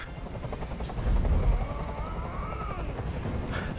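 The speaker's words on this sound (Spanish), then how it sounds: "¡Ya no resisto más ese ruido! ¡Haz que ese helicóptero se vaya!" A helicopter in the video game Detroit: Become Human hovers close by, its rotor beating out a steady, loud, thudding drone with a heavier surge partway through and no voices over it.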